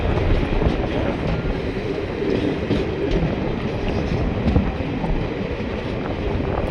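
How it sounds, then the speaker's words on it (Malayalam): A train on the snowy Banihal to Srinagar line rolls along with a steady, dense rumble and faint clatter from the wheels on the track, approaching a railway station, with no voices. "അടുത്തൊരു റെയിൽവേ സ്റ്റേഷനിലേക്ക് ട്രെയിൻ എത്തിരിക്കുകയാണ്."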